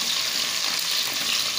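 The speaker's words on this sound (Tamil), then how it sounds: "வெங்காயம், கருவேப்பிலை, நல்லா அந்த எண்ணெயில் வந்து வெங்காயம் வணங்கட்டும்." Sliced onions and curry leaves frying in hot oil with mustard seeds for a cauliflower biryani, a steady close sizzle with no talking.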